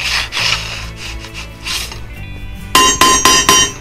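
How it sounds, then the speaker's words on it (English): Hammer blows on a crosscut saw blade while straightening out a lump, first some rubbing and scraping, then four bright, ringing metallic strikes close by in a quick, even rhythm. "I'm using the hammer face, the long face in that direction"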